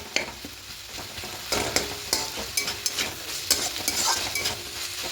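Potatoes and fenugreek greens being stirred in a pan, a steady sizzle broken by repeated scraping clicks of the spoon against the pan, close and alone with no talk.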